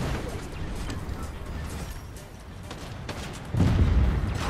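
Tank cannon fire in the Fortnite video game: heavy booming gunfire rumbles throughout, with a loud low blast near the end, mixed with game noise and faint speech.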